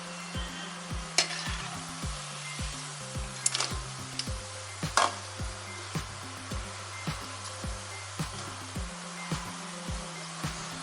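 Murukku frying in oil kept at medium heat is turned in the pan, with a steady soft sizzle and bubble, a few sharp clinks of a utensil, and a low hum running underneath.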